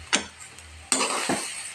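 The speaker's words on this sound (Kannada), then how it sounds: "ಇವಾಗ ಇದನ್ನು ಮತ್ತೆ ಮಿಕ್ಸ್ ಮಾಡ್ಕೊಳ್ಳಿ" Carrot palya being stirred in a pan, a couple of scraping, sizzling strokes with a spoon, close and fairly loud, with quiet gaps between them.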